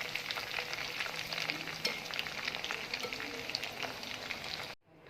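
Chicken pieces frying golden in a pan of oil for restaurant-style chicken vegetable fried rice, giving a steady, dense sizzle and crackle that cuts off abruptly just before the end.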